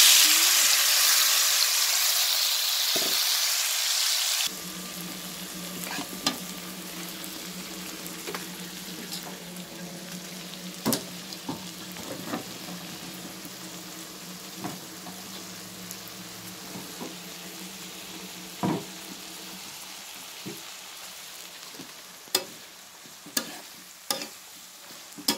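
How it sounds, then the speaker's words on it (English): Fish frying in a pan gives off a continuous sizzle with occasional sharp pops and clicks, loud at first and then settling into a steadier hiss. "don't cover it yet. Just fry it for a couple of minutes."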